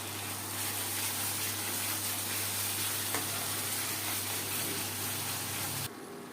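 Okra masala with green chilies being fried in a pan, a dense, even sizzle over a low steady hum that drops away abruptly near the end.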